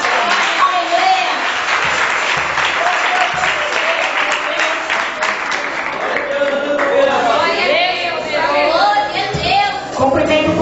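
A church congregation applauds loudly and continuously during an evening service, a dense wash of many hands clapping up close, with voices and a bit of chatter mixed in throughout.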